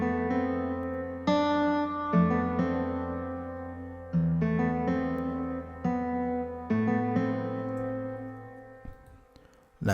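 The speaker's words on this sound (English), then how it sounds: "I took a guitar from Sample Tank, an acoustic guitar, and it sounds like this" A sampled acoustic guitar from Sample Tank plays the main melody of an Afrobeat track in FL Studio, with plucked notes ringing over sustained tones in a steady, unhurried phrase, clean and without voices.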